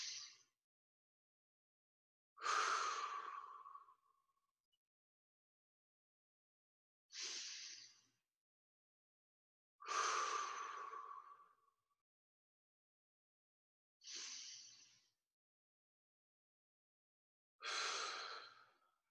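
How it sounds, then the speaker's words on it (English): Deep breathing during a senior exercise class, six slow airy inhales and exhales spaced by silent pauses, close and soft, with no talking. "Take a deep breath and blow it out."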